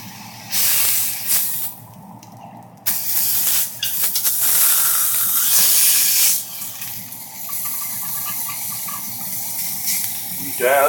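Steak cooking in a hot pan gives off loud, continuous hissing and sizzling, rising and dipping in intensity with a few short breaks.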